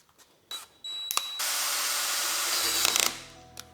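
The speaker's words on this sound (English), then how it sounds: "so I'll need to drill that out" A power drill bores out a bolt hole in the brake caliper mount of a custom electric mini bike, with a sustained whining run of about two seconds between short starts and stops.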